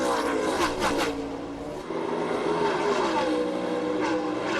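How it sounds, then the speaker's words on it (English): Stock cars race around the track at the 2005 New England 200, their engines a loud, continuous roar that swells and shifts as the cars pass, with no voices over it. "These guys can't get their cars worked down on the bottom like Truex can."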